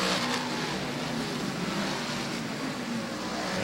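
Race cars accelerate off turn four under a green flag at a racetrack during a light shower, their engines a dense, steady roar from several cars together at moderate distance, with no talk.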